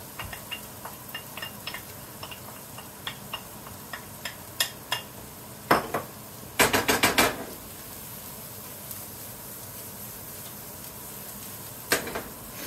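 Finely chopped garlic hits a hot pan for pasta carbonara, giving a soft sizzle under scattered metallic clinks and taps of a utensil against cookware, with one brief cluster of rapid scraping strokes.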